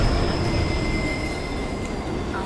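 A train rolls past in the TMNT: Out of the Shadows video game, a steady, loud rumble of wheels on rails with a thin high whine running throughout, close and without talk.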